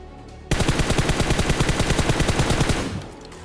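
Sustained automatic gunfire in the PUBG Mobile game, a rapid, evenly spaced burst of shots lasting close to three seconds, loud and near, ending abruptly.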